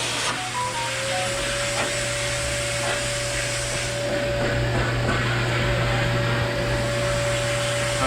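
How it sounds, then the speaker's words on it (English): A vacuum cleaner runs over a customer's head in a Seoul barbershop, giving a steady, loud whirring drone with a constant high whine and no pauses. "I've never seen anybody use a vacuum cleaner before"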